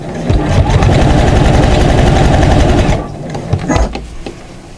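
A sewing machine stitches a folded fabric binding strip for a storage case. It runs as a steady, close, loud mechanical whirr for about three seconds, then stops, leaving a few lighter handling sounds.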